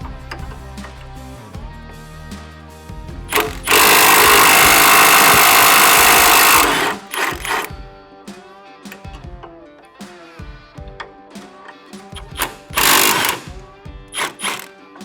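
An impact-style power tool zips off the 18mm brake caliper bolts on a Jeep in a shop, a loud sustained burst in the middle and a shorter one later over background music.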